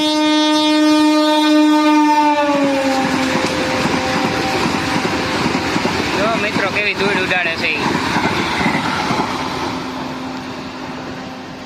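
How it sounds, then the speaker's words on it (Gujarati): A Vande Bharat express train passing through a station, its horn blaring loudly at first, then a rushing roar of wheels and rattling carriages fading gradually, with someone talking over it. "વંદે ભારત પાસ થઈ ગઈ છે"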